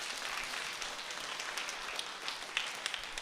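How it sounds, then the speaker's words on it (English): Audience at a third-grade school holiday concert applauding: a soft, steady patter of many hands clapping at a distance, fairly faint, with no talk over it. "Let's give them a round of applause"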